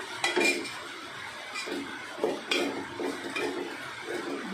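Lentils for khichdi being fried in a pan, heard as repeated clatter and scraping of a metal spoon against the pan in uneven bursts, close and moderately loud.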